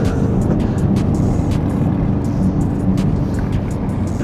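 A 2026 Aston Martin Vantage Roadster engine holds a steady, loud drone above 3,000 RPM through a fast sweeping corner. Wind and road noise mix in, with no talking.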